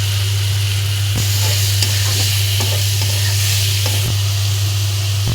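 Washed prawns frying with spices in a pan, a constant close sizzle under a low steady hum, with occasional spoon scrapes and taps while stirring, no voices.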